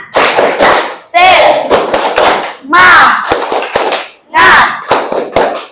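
A school class does a rhythmic spirit clap, sharp bursts of hand claps in patterned groups mixed with loud group chanting and shouting voices.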